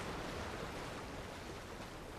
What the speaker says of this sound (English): Can I get under the waterfall?